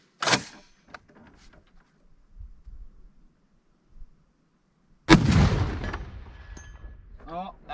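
A .50 caliber rifle fires at a steel train track outdoors: one sharp, loud shot with a short ringing tail early on, then quiet murmuring, then a second heavy blast followed by people talking.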